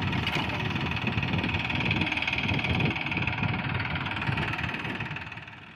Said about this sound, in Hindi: अभी मेरा भाई चला रहा है ट्रैक्टर